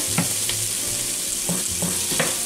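Sausage crackles in a frying pan, a continuous sizzle with a few soft scraping stirs mixed in, close and fairly loud, with no one talking.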